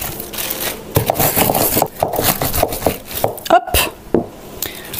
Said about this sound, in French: Et avec mon rouleau à pâtisserie, je vais les écraser comme ça.